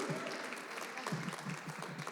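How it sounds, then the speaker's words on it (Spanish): A small church congregation applauds Eli, steady clapping that carries through the whole moment at moderate loudness, with a hint of voices underneath. "Vamos a darle un aplauso a Eli."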